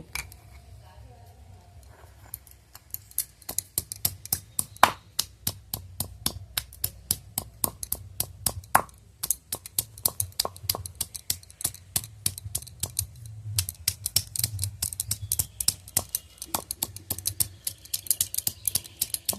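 Ginger and garlic being ground on a shil, a flat stone grinder, in a village kitchen: a long run of sharp, rapid scraping and knocking strokes, close and fairly loud, repeating in an irregular steady rhythm over a low background hum.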